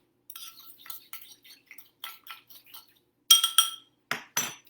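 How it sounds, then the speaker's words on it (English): Spoon clinking against a glass bowl while an oily marinade for a tomato salad is stirred, with light repeated taps followed by a few louder, sharper clinks near the end, close and with no talking. "We're going to mix that up real well"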